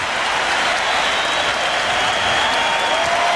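Basketball arena crowd roaring and clapping during a 1992 Bulls versus Knicks playoff game as Patrick Ewing limps to the bench, a loud, steady wash of noise.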